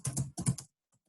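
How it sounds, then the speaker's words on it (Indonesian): A short burst of quick keystrokes on a computer keyboard while entering data into SPSS, close and crisp clusters of clicks followed by a couple of faint taps. "Kita ketik di sini jenis kelamin."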